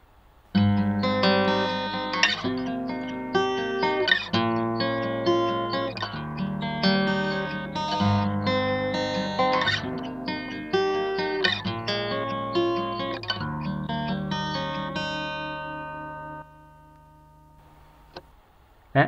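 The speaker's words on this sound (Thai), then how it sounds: "เราจะมาฟังเสียงเปรียบเทียบระหว่างไมโครโฟนกับเปียโซกันโดยเสียงต่อไปนี้เป็นเสียงจากเปียโซ" Acoustic guitar picked up through a piezo pickup, a sequence of plucked notes and chords with a slightly hard, direct tone, ringing out and fading to near silence at the end, no voices.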